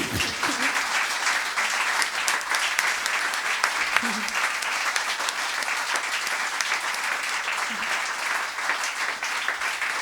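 Sustained theatre audience applause, a dense wash of clapping filling the room, with a few voices faintly heard under it.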